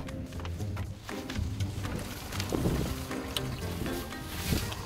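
A fishing boat's engine runs steadily at sea on a cold day during a net-fishing outing, a continuous low drone mixed with wind and water noise, with no talking.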